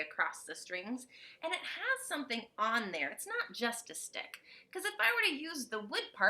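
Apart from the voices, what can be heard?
No everyday noise stands out behind the speech.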